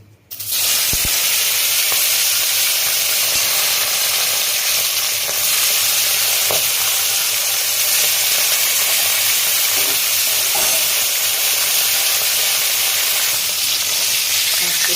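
Hot oil with turmeric, for frying tilapia, sizzles loudly in a pan over a lowered gas flame, a dense unbroken hiss lasting throughout, with no voices.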